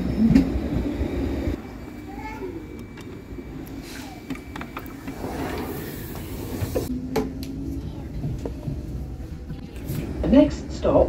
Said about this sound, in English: I'm going to wait for a train to arrive now to board it